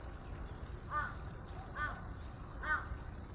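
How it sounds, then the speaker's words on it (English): Crows calling among cherry blossoms in Tokyo, three short harsh caws spaced about a second apart, moderately near over a low steady background rumble. "Some of the crows, especially when they're little, they're kind of actually friendly and talkative."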